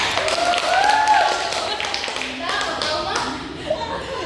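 First- and second-grade schoolchildren in a classroom clap for a classmate, giving a short flurry of hand claps, close and lively, while voices talk over and around the clapping.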